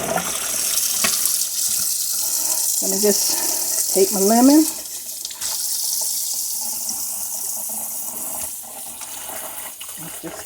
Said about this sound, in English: I'm just going to wash it. Make sure the water's cold though.